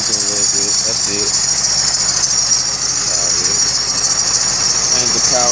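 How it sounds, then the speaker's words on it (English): A 2007 Cadillac DTS engine idles loudly and steadily while a drive belt squeals in a constant high-pitched whine, with rattling and faint voices in the background. "Just pinching and squeaking a little bit."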